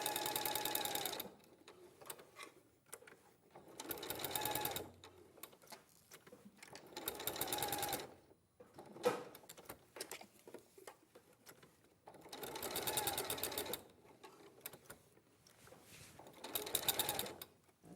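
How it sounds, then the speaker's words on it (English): A sewing machine top stitches around a quilt block in several bursts of rapid, steady needle rattling, pausing briefly between runs, with faint clicks and handling noise in the gaps. "just top stitch that all the way around"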